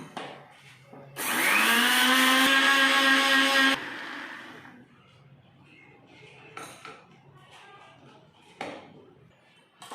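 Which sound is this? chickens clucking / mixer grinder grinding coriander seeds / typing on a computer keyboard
mixer grinder grinding coriander seeds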